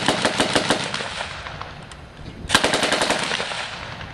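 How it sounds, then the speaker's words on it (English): An M1918A2 Browning automatic rifle (BAR) fires two bursts of rapid automatic shots outdoors at a 1944-style close-assault demonstration, with sharp repeated reports, a pause, then a second loud burst. "This is the 1918 A2 Browning automatic rifle,"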